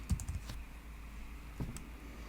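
Keystrokes on a computer keyboard while typing a search term into a code editor's extensions panel: a quick cluster of soft clicks at the start, then a pause and a few more taps, faint and close over low room hum.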